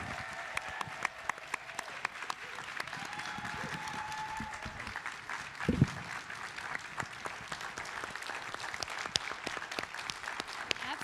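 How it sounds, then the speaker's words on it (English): A room full of people applauds servicemen of the 369th Infantry at a talkback event, with steady crowd clapping throughout, scattered sharper claps and a brief low thump partway through. "can you guys stand up so we can give you a round of applause?"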